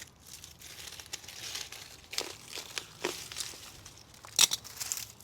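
Aeonium stems being cut down to height with crisp crunching snips and rustling crinkles of succulent foliage, close and fairly quiet, in several separate bursts.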